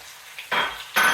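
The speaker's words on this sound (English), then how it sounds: "So I'm going to add my onion first." Chopped onions hit hot oil in a pan for beef curry, giving two sharp bursts of close, loud sizzling separated by a short, quieter gap.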